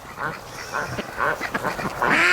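Pekin ducks quack loudly and close by at a lake, in a rapid run of harsh nasal calls that overlap toward the end.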